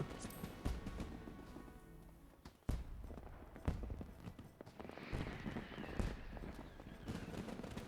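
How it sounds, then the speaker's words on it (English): Footsteps approach in the Final Fantasy XIV video game, a series of irregular thudding steps heard over a busy, noisy background. "You hear footsteps approaching."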